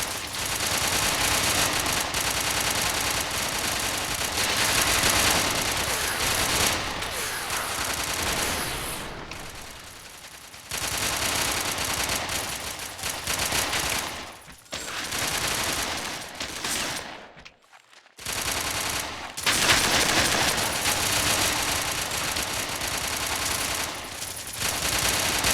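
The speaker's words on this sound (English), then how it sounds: "Damn, hearing a lot of pistol gunfire sounds" Pistol gunfire in the video game Red Faction during an online game night, dense rapid overlapping shots and bursts filling the mix almost nonstop, with a couple of short gaps.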